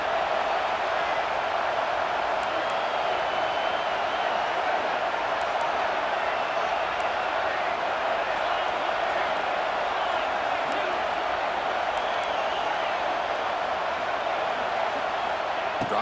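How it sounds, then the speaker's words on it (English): Roaring stadium crowd in the NCAA 26 football video game, Texas vs Georgia, a dense, steady wash of cheering noise that holds at a constant level throughout, with no distinct claps or voices standing out. "this crowd is fired up. Listen to this noise here."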